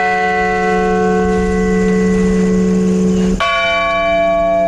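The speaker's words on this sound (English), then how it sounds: "The bells tolling there and tolling all over the country for the victims of the September 11th attacks." Church bells toll for the victims of the September 11th attacks, a loud, sustained, ringing tone with rich overtones that is struck again partway through, renewing the clang as the earlier strike fades.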